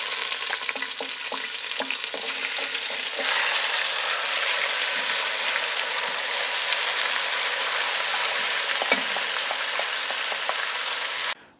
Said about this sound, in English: We're gonna get ourselves some neutral oil in there. And we're gonna sear the meat.